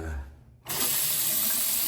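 Hotel bathroom tap turned on after a brief pause, water gushing steadily and loudly into a sink at close range.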